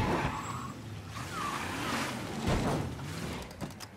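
Car driving in Mafia III, a close engine hum with shifting revs, tire noise and brief skids, steady and moderately loud with no talking.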